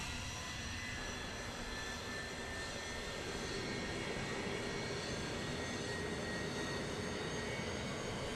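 MD-83 airliner's Pratt & Whitney JT8D jet engine running after start in Microsoft Flight Simulator 2024, a steady loud roar with a high whine holding evenly across the clip.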